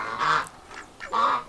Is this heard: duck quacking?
yes